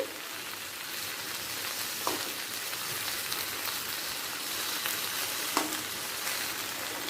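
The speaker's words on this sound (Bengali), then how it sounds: "দেখুন ভাজতে ভাজতেই সেদ্ধ হয়ে গেছে সব সবজি" Mixed vegetables frying in a pan with a pinch of asafoetida, giving a steady, close hiss and sizzle throughout with a couple of faint clinks of stirring.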